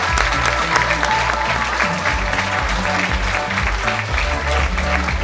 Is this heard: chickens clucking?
no